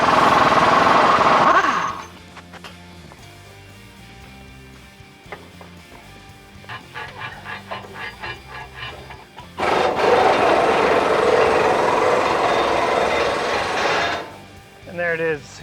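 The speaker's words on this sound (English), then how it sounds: "I'm going to go ahead and take the radius arm off." Work on removing the radius arm from a Ford E-350 front suspension, with loud bursts of power-tool or impact-wrench noise at the start and again later, separated by metallic clanks and rattling of parts.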